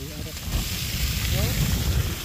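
A fire roars steadily in strong wind, with a constant rushing, crackling hiss and gusty rumble filling the whole stretch.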